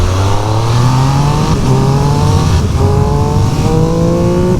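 A 2023 Triumph Speed Triple RS 1200 motorcycle accelerates hard up a motorway on-ramp, its engine note climbing through several gear changes, loud and close, with wind rush underneath and no talking.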